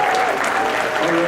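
Wedding reception guests clap for the father of the bride before his toast, a loud, dense burst of applause sustained for the whole short stretch.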